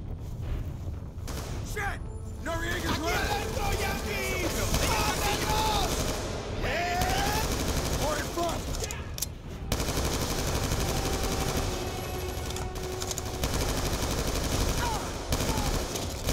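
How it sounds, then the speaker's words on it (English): In a Call of Duty: Black Ops 2 campaign mission, video game gunfire rattles in sustained automatic bursts with scattered booms and thuds, while voices talk over the din. "Gunshots came from inside."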